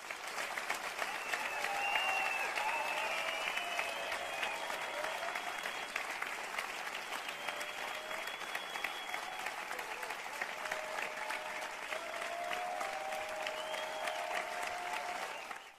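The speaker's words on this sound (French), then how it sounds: "J'aimerais qu'on lui donne une bonne main d'acclamation," Sustained applause from a seated audience welcoming a speaker to a testimonial talk, dense steady clapping holding for about fifteen seconds before tapering off at the end.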